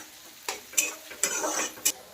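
Onions, garlic and green chillies frying lightly in a pan for cheese pasta, with a soft sizzle and several sharp scraping stirs of a spatula against the pan, close and alone.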